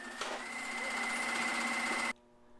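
Steady sewing machine running for about two seconds, stitching a seam closed on a top made from a McCall's 7543 pattern, with a constant whir and hum that stops abruptly, leaving near-silence.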